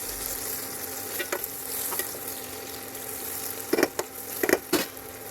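Tomatoes and onions sizzle steadily in a pan, a close, even frying hiss broken near the end by a few sharper stirring scrapes.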